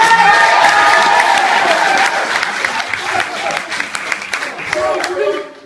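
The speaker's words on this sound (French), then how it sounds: "on peut l'applaudir" A French comedy show audience applauds, a dense burst of clapping and crowd noise that is loud at first and then thins out over a few seconds.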